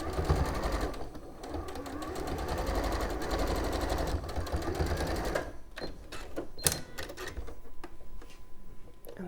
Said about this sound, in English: So if I do that really, really quick on a long stitch, and hope I'm not going to mess it up just at the end now.